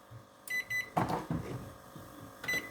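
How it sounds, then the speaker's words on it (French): A microwave oven heats a white chocolate and coconut dessert in a plastic container at 600 watts, giving a steady low hum with a few short bright beeps and clicks, close and fairly quiet. "parce que c'est une cuisson au micro-ondes. Donc on va mettre pendant 5 minutes à 600 watts"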